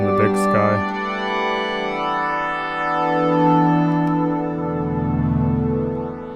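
Modal Argon 8 synthesizer played through a Strymon Big Sky pedal in bloom reverb mode: sustained harmonic chords with slowly sweeping overtones and a long, swelling, shimmering tail, loud and continuous after a brief opening note burst.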